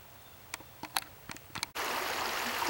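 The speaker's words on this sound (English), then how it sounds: "You can hear the creek talking to you." A creek flowing outdoors rushes in loud and close after a few soft clicks and taps, a steady broadband wash of moving water.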